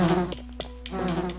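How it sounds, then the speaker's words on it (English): Bees buzz in the Resident Evil: Director's Cut game, a steady insect drone with a few sharp clicks and thumps mixed in, fairly close and with no talking. "I'm gonna get stung to death by bees!"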